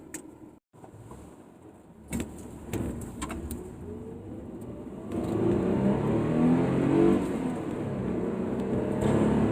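The 3-liter V6 of a five-speed Infiniti I30 rises in pitch as the car accelerates, heard from nearby with some wind and road rumble, after a few brief clicks and thumps.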